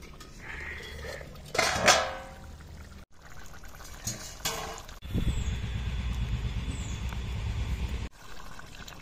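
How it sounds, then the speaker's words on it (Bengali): A metal lid lifted off a pot of chicken cooking for a traditional chicken bhapa: clanking metal knocks and scrapes up close, then a steady bubbling simmer, with no talk. "এবার একবার দেখে নেবো ঢাকা খুলে।"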